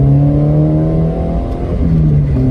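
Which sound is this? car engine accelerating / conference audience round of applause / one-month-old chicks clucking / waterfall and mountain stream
car engine accelerating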